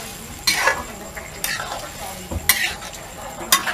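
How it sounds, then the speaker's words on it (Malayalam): Pickle is stirred and mixed in a pot, giving a few separate scraping, clinking strokes at close range against quiet background. "ഇനി ഇത് നല്ലോണം മിക്സ് ചെയ്ത് യോജിപ്പിക്കുക."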